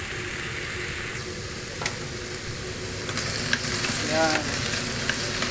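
Okra, squash, onions and garlic, with pork, sauté in a hot pan with a constant close sizzle and occasional stirring scrapes, while a voice briefly speaks over the frying.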